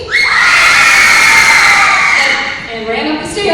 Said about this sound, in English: Everyone screamed